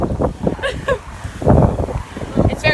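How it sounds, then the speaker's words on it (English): Gusty wind buffets the microphone in loud, rumbling bursts over a few seconds outside a castle in Malmö, Sweden, with people talking underneath. "It's very windy."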